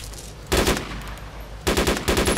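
Automatic gunfire from the video game DayZ sounds in two short bursts of rapid shots, loud and close over steady background noise, with no talk.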